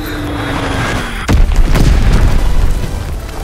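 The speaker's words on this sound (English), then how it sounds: "Enemy bomb incoming." A heavy bomb explosion in Call of Duty WW2 multiplayer hits with a sudden deep boom after a low droning buildup, then rumbles and echoes loudly as debris settles.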